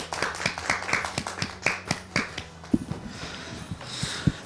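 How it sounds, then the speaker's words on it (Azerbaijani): Audience applause at a televised talent show, a run of sharp claps in uneven bursts that gradually thin out, fairly close and without talk. "Alqışlar, alqışlar."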